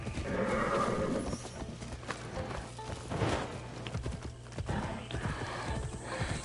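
A horse's hooves clip-clop steadily as it is ridden up a road in a video game, with an occasional whinny breaking over the rhythmic gallop, loud and close.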